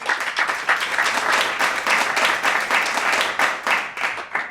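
An audience applauds to welcome poet Kate Wilson, a small intimate crowd giving steady, fairly loud clapping that runs the whole stretch without a break, with no talk over it.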